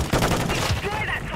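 Automatic gunfire sprayed in Call of Duty MW3 on the Stash House map, a dense, loud, unbroken rattle of rapid shots filling the short moment, with faint voice underneath.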